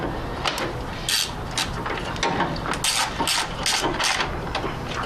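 A ratchet tightens spark plugs on a 2007 Nissan Sentra, its rapid clicking pawl sounding in repeated bursts over a busy mechanical background, close and fairly loud.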